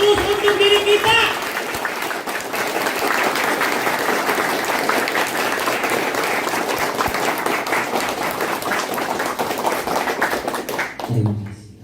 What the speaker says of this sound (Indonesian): Maka aplaus yang meriah untuk diri kita, untuk orang-orang yang kita sayangi